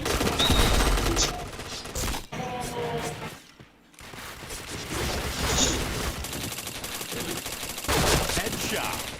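Dense bursts of rapid gunfire from a shooter video game fill most of the stretch, loud and busy, dropping out briefly near the middle before the shooting resumes.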